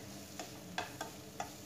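Tomato with turmeric sautéing in a pan for a kurma: four quick scraping stir strokes sound faintly over a soft, continuous sizzle.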